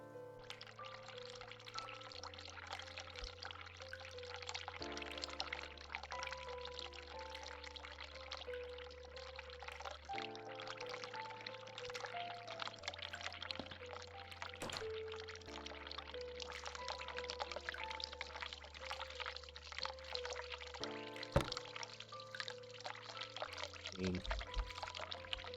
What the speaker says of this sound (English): Run the hot tab.